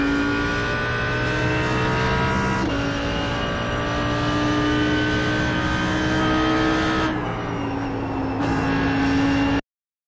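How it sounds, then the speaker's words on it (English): Audi R8 GT3 race car in a racing video game on the Nürburgring Combined circuit, engine at full power: a loud, continuous high-revving howl that climbs through the gears with brief dips at each upshift. "onto the throttle slightly, off the throttle again, trail braking again, back on the power, full power now"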